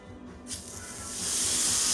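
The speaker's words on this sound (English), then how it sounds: "Yeah, it's sizzling." Chicken pieces laid seasoned side down into a little hot oil start a loud sizzle abruptly, swelling into a steady bright hiss as they sear.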